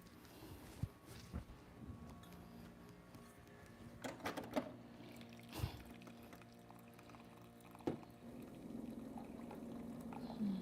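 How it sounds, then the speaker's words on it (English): Hot water pours onto herbs and dates packed into a jar, a quiet, uneven trickle with intermittent clinks and splashes that swells into a steadier pour near the end. "I am going to now add the liquid"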